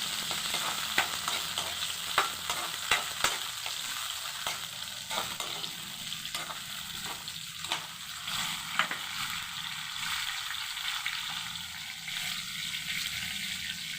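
Eggplant sautés in oil in a pan for a home-style brinjal gravy, giving a steady close sizzle broken by intermittent scraping and stirring clatter, with no one speaking.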